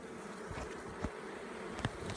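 Honey bees buzzing on a smoked hive frame, a dense steady hum of many wings close by, with a few soft knocks and handling sounds, no talking.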